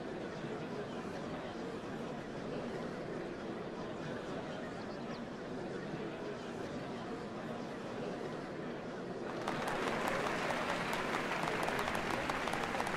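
Dense crowd applause from a large gathering in the video game Final Fantasy XIV: Dawntrail, a steady wash of clapping that swells louder near the end.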